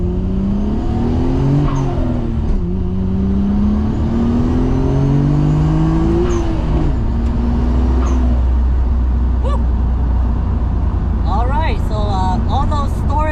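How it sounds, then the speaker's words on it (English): A Nissan Skyline GT-R R33 with factory turbos accelerates on the interstate, its engine note rising and falling through several gear changes, loud and close from inside the car, with brief talk near the end. "So now we're going to go ahead and hit the interstate and see what this car's got."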